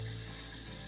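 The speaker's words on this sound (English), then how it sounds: "Add a little water as you see fit." Water runs steadily into a bowl of pie dough made with chilled, crumbled butter, a continuous close splashing pour with no talk.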